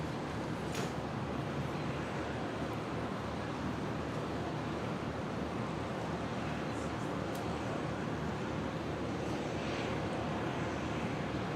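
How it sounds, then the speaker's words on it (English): A Qantas airliner arriving from Port Moresby and landing on runway 19 right at Brisbane Airport, heard as a steady, moderately distant broadband jet roar that holds throughout with no talk over it. "Next arrival, Qantas 58 coming in here on 19 right from Port Moresby."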